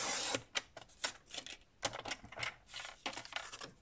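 Paper being cut for a scrapbook album, with a close series of short, sharp, crisp snips and rustles coming in uneven clusters.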